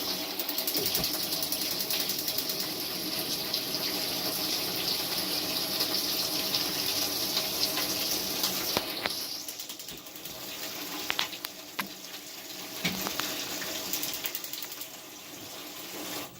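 Water pours steadily from a tap into a pot for braised mackerel, a continuous moderately loud rushing stream that runs for about nine seconds and then tapers off into quieter trickles and drips.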